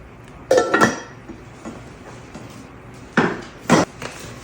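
Metal cookware being handled: a 5-litre pressure cooker and a saucepan knock and clatter in a few distinct bursts, two close together early and two more later, with quiet gaps between and no talk.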